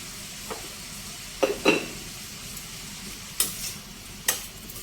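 Mixed vegetables with soaked tamarind and salt cook in a pan, giving a soft steady sizzle broken by several close clanks and scrapes of stirring, with no talking.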